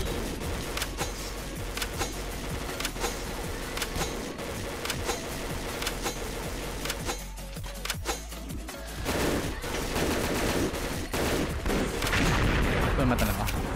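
Gunfire in the shooter Point Blank during a Darkness 4Shot Bazooka match, a rapid, dense stream of shots crackling almost continuously, with heavier bursts toward the end and voices talking throughout.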